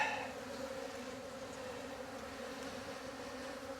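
Honey bees hum in a steady, close, even drone while a hive is opened for its first inspection of the year, with no talk over it.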